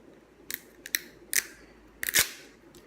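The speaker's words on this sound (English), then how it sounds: "You unwrap the red tag first." Plastic wrapping crinkles and tears off a MiniMed MIO insulin cannula set in a few short, close, crisp bursts separated by brief pauses, with a quiet background.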